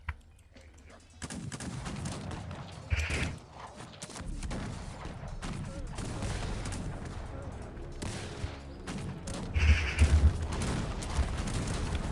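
Bursts of rapid gunfire with sharp shots scattered through a dense, busy Cossacks 3 battle soundscape, a louder volley standing out near the end.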